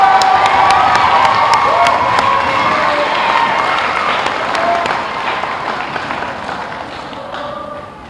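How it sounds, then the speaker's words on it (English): School audience at a geography bee giving loud applause and cheering for participating students, with shouts and whoops over dense clapping that gradually fades. "do a round of applause for all the students who participated"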